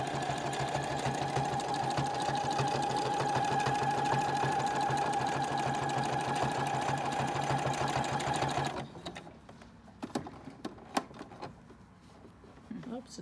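A sewing machine runs a feather stitch along a fleece hat with a steady, close mechanical whirr for about nine seconds, then stops, leaving scattered clicks and handling sounds.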